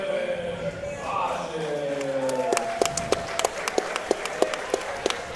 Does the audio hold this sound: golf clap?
yes